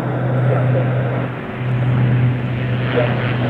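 A Norwegian C-130 Hercules turboprop transport on a flight-test departure from Cambridge, UK, drones steadily as it approaches, a loud, continuous engine roar with a low hum throughout.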